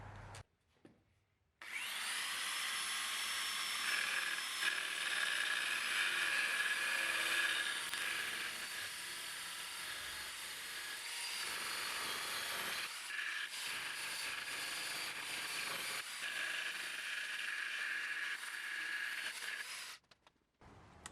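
Small hand-held grinding tool fitted with coarse sandpaper working on Saab 900 Classic bodywork, a steady continuous abrasive whine held close and loud for nearly twenty seconds, with brief changes in pitch and load partway through.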